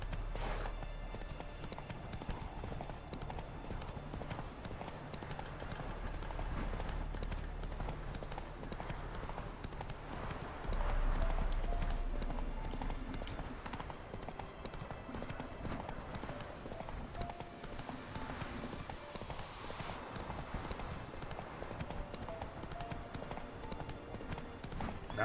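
Roach, the horse in the Witcher 3 video game, gallops with steady rapid hoof clip-clops over a low game soundscape, the hoofbeats growing louder for a moment around the middle and running through the whole stretch.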